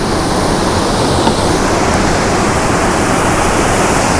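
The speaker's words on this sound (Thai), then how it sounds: "เริ่มเดือดครับผม" Pot of coconut milk soup coming to a boil over a camp stove outdoors, a steady loud wash of bubbling and hiss that fills the clip without a break.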